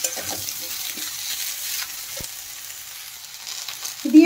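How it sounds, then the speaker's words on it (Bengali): Chopped ridge gourd and potatoes tossed into spices frying in a pan, giving a steady soft sizzle with a few scraping stirs and a louder clatter at the end, with no talking. "এখন আমি দিয়ে দেব ঝিঙে আর আলু। ঝিঙে আর আলু দিয়ে মশলার সাথে একটু মিশিয়ে দেব।"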